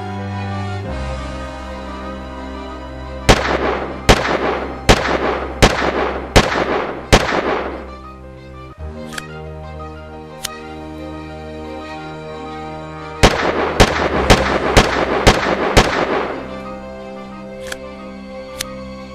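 Gunshot sound effects play for a LEGO Team Fortress 2 revolver, with loud sharp bangs fired in two rapid bursts of about six shots each, plus scattered single shots between and after.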